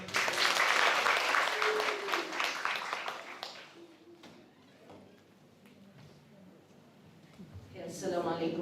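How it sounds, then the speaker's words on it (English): Audience applause welcoming a speaker to the stage at a university public speaking workshop, loud clapping for about three seconds that fades into scattered claps and quiet, with voices talking near the end. "Let's welcome her with another round of applause."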